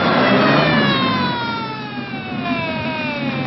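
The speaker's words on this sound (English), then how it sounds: "All right, Mr. Reese, I see the ambulance is coming" An ambulance siren wails in repeated, steadily falling tones on an old 1951 radio drama recording, loud at first and easing slightly as it continues, with no talking over it.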